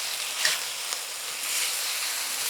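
Beef browns in a hot pan, giving a loud, dense, continuous sizzle up close with a couple of small pops and stirring scrapes.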